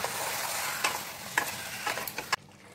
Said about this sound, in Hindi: अब चिकन को भूनते रहेंगे।